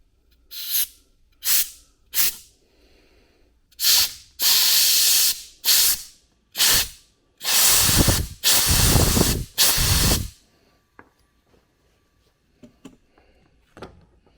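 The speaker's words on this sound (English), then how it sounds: "you're just going to spray air in them, and the air pressure is going to pop out a piston" Loud bursts of compressed air hiss in short repeated blasts into a 2019 Mazda MX-5 brake line to pop out a caliper piston, then longer sustained sprays, ending in quiet with a few faint clicks.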